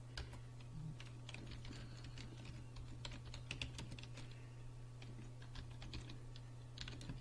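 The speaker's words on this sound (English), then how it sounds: "Let me just type it out." Quiet, close typing on a computer keyboard as a command is entered, rapid irregular key clicks over a steady low electrical hum.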